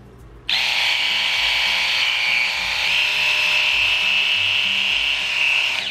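A small electric epilator motor switches on and runs with a steady high-pitched buzzing whine, loud and close, continuing without pause.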